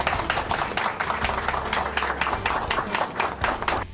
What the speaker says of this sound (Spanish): El aplauso para todos ustedes